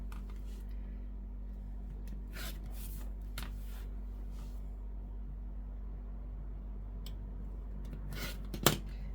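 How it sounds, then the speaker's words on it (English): Fabric strips being cut along a quilting ruler at a crafting table: a few brief, crisp slicing swishes spaced several seconds apart over a low steady electrical hum, fairly quiet and close. "I'm just going to cut both sets of strips at the same time"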